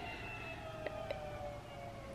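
An ambulance siren wails faintly from outside an apartment, a distant steady tone heard through the walls over low background hiss.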